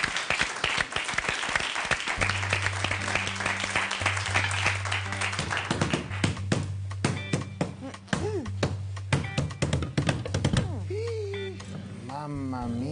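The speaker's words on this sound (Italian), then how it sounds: "Un applauso!" Studio audience clapping on an Italian TV cooking show, brisk applause at first over a low steady musical hum, thinning into scattered claps, knocks and voices.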